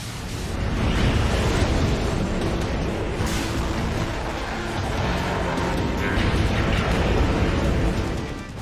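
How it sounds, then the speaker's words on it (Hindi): Explosions and rocket fire roll on continuously as a loud, dense rumble lasting the whole stretch, with a few sharper bursts standing out from the din. "बेहिसाब बारूदी विध्वंस, अग्निबाणों की अंतहीन बौछार"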